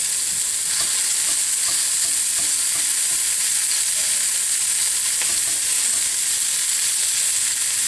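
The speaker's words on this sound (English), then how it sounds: "First thing I'm going to do is brown this sausage." Lean sausage browns in a frying pan with a loud, constant close-up sizzle and a few faint stirring taps.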